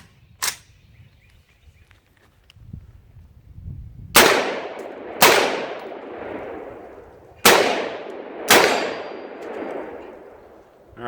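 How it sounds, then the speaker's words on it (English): Four sharp, loud gunshots from an MPX-C fitted with a Tac Con trigger ring out alone in two quick pairs, each with a ringing decay, after a fainter single clack near the start. "let's see if we can rattle off some rounds"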